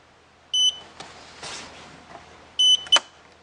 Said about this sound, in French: avec un bip effectivement pour informer le candidat que nous avons un souci